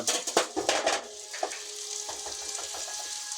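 Peppers browning over a gas flame with prep, giving a bright sizzle with several quick scraping and tapping knocks early on, then settling into a steady, even frying hiss.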